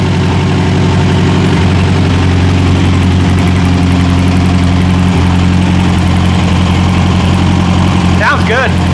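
A 40 horsepower Volkswagen engine in a rat rod truck idles steadily with a low, even drone, close by and continuous, while a person talks briefly near the end.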